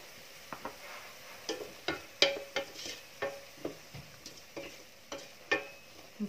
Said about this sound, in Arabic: نتسنى عليها تتقلى شويه